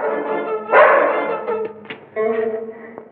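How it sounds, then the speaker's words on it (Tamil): A dog barks in a few short, loud bursts close by, mixed in with voices talking over it. "நாய்கிட்ட மாட்டிக்கிட்டேன்"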